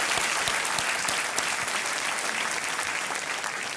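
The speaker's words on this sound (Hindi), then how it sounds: "इनके लिए तालियां देवी और सज्जनों।" Enthusiastic applause from a TV quiz show studio audience, many hands clapping in a dense, steady roar that tapers slightly toward the end.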